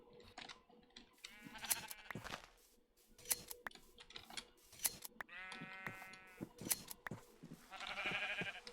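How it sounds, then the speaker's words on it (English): Sheep bleating in the Minecraft modpack All the Mods 7: a few wavering bleats from a flock, mixed with sharp computer keyboard clicks and no talking. "Oh, it's loads of sheep."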